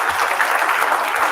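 An audience at a Black men's health and community event applauds in a dense, steady wash of clapping that fills the room at close range.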